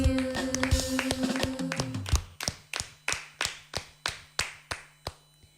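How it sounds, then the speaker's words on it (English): A school theatre audience claps together in slow unison, about nine sharp separate claps following a burst of mixed clapping and sustained tones. "Let's clap 13 times."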